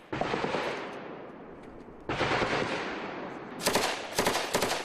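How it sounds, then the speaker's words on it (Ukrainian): Sustained bursts of machine gun fire, loud and close, with a brief lull before another long volley and sharper cracks near the end. "Вже ззовні бойовики знову відкривають вогонь."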